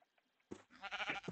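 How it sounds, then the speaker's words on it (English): A light gray sheep bleats in a video game: two short bleats after a faint opening, reasonably close, with no talk. "I got a light gray sheep"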